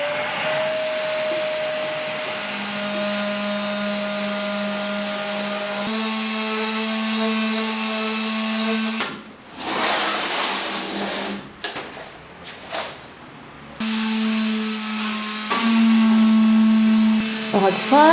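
Power sander working over wooden pieces for an industrial-style table, a steady loud motor drone that shifts pitch, cuts out for several seconds of intermittent bursts and scraping, then resumes at a slightly different tone.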